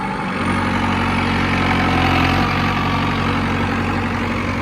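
A heavy diesel Arjun 605 turbo tractor engine runs steadily and loudly as it pulls off in first gear, a constant low rumble with slight vibration, close by and with no other sounds.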